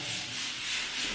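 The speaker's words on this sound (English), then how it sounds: "now he's sanding the connection between the screen board" Drywall board joints being sanded during a house build in the Philippines, a steady, continuous close-up rasping scrape with no pauses and no talking.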